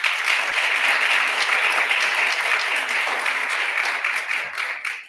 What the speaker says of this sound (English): And let's have a big round of applause for Makhi right now.